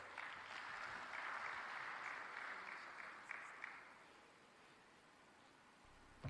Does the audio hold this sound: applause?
yes